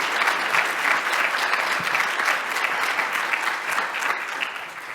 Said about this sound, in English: We really should be giving them a round of applause.